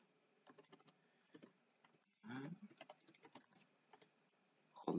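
Quiet keystrokes clatter on a computer keyboard in scattered, uneven bursts with brief pauses, recorded faintly at a desk with no speech.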